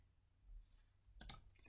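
A single computer mouse click on a link sounds as one sharp, faint double tick after a near-silent moment.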